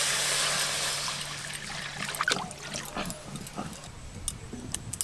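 Water poured into a cooking pot for biryani, a rushing splash that fades into trickles and a few clinks and drips, close and moderately loud.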